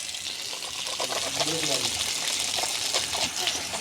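Tap water gushing steadily from an opened faucet in a home water softener test with soap, a continuous broadband rush lasting throughout, with people talking over it.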